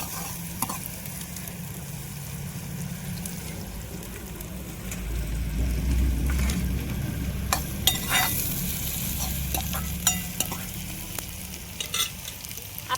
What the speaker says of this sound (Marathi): कांदा मस्त परतून घेऊ